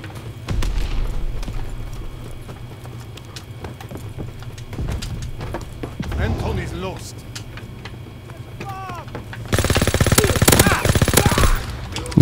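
Shotgun fire in an online shooter game, a loud burst of rapid blasts near the end following scattered shots, with players talking excitedly throughout.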